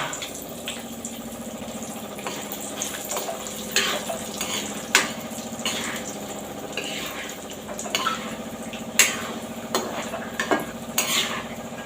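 Sundakkai vathal fry in a pan for milagu kulambu with a steady low sizzle, punctuated by light scraping stirs against the pan.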